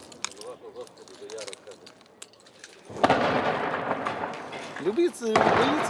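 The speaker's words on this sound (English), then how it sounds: "Our forces shoot them and they fire back." During a frontline gunfight in Bakhmut, Ukraine, quiet crackles give way to heavy, close bursts of gunfire that hit in two loud waves, while voices talk through the shooting.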